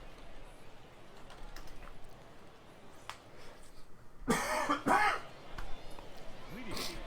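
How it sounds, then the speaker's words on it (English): A couple of close, harsh coughs burst out midway, loud against a low murmuring background. "Excuse me for all the coughing."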